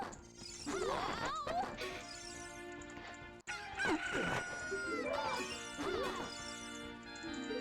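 A chicken in the video game Ship of Harkinian, with squawking, crowing-style cries and clucks rising and falling in several loud bursts over game music, alongside a sharp crash partway through.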